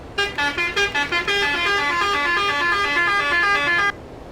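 A deep, brassy Mercedes-Benz Axor truck horn in Euro Truck Simulator sounds in several short blasts, then holds one long continuous blare before cutting off abruptly.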